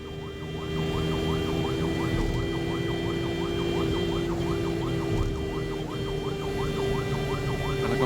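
An ambulance siren wails in a steady, repeating two-tone cycle on a road in Kannur while it carries a child to hospital. A loud engine drone runs beneath it and the siren continues throughout, with no talk.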